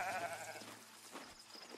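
Sheep bleating faintly at a distance on a sheep farm in the medieval city-building game Foundation, a single soft bleat trailing into low ambient noise.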